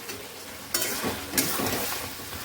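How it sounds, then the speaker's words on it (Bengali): Mutton sautéing in hot oil for kosha, a soft steady sizzle broken by two sharp bursts of frying as the pieces are stirred, with no talking. "মাটনটা চলছে কষানো আমাদের।"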